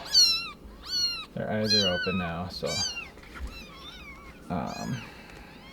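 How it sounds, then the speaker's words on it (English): Three kittens meow in high, thin, repeated cries close by, while a person talks quietly over them. "So we got 3 new kitties here."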